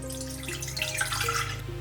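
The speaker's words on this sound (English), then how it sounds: "So you add your water to the pan." Water poured into a cooking pan over moderate heat while making chocolate mousse and tempered chocolate. It is a steady, close trickling and splashing that runs through the whole moment, with faint tonal ringing from the pan.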